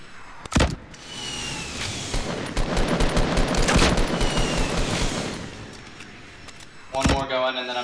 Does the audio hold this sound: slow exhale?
no